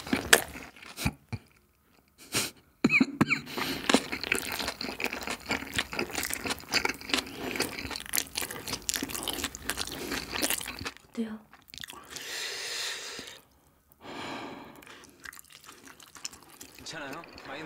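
Close-up eating of crazy spicy mandu dumplings at a dumpling shop in Cheongju, with wet, crunchy biting and chewing coming in dense bursts, broken by short pauses and some voices in the background.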